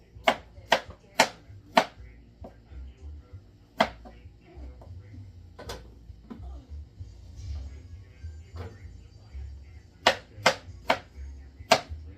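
A knife chops ingredients for a kimchi puree on a cutting board, sharp close knocks in quick clusters at the start and end with scattered single strokes and quiet kitchen background between.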